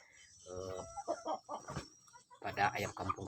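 Free-range village chickens clucking in a series of short, close, fairly loud bursts with brief pauses between them, alone without any talk.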